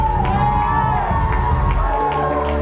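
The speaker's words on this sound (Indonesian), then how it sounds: "Tepuk tangan yang paling meriah bagi bilangannya Sang Raja." Church congregation at a Sunday worship service in GBI Lewi Citraland cheering and applauding, a loud continuous wash of crowd noise with whoops and music underneath, steady throughout.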